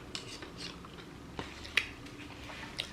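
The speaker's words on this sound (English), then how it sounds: "sorry for chewing and talking," Chewing during a mukbang of Hawaiian barbecue, chicken katsu and macaroni salad: a few close, soft bites and mouth sounds with small crunchy clicks spaced across a short quiet stretch.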